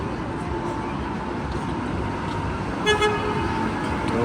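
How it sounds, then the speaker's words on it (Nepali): A train runs through Siliguri's city centre with a continuous low rumble, and a short horn toot rises over it near the end. "यहाँ त सिटी सेन्टर भित्रै ट्रेन गुड्ने रहेछ ल"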